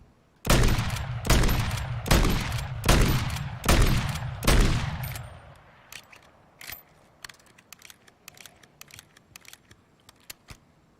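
Lockwood MK2 shotgun in Modern Warfare 3 firing six loud, evenly spaced blasts, each with a short ringing tail, followed by quieter clicks and faint mechanical ticks as the gun settles.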